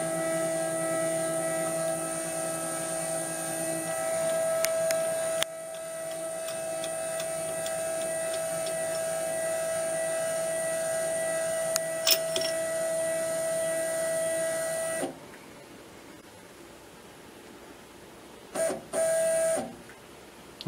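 A milling machine's powered table feed runs with a steady whine and mechanical hum for most of the clip, then stops, leaving quieter shop ambience broken by a couple of short clunks; no talking.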